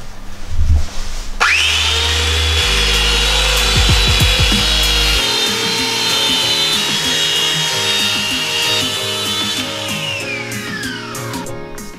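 A loud power tool sands a wooden strip at a slight angle in one long continuous pass, with a high whine that trails off at the end.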